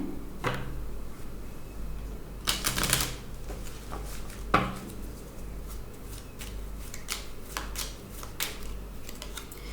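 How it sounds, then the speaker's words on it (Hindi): Cards from a Magic Oracle deck being handled and one drawn: soft shuffling rustles and crisp card snaps and taps, scattered irregularly and heard close in a quiet room without speech. "मैजिक ऑरिकल से एक कार्ड लेते हैं"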